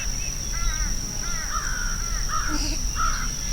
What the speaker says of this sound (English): Let's spin the camera around and listen to some of the crows.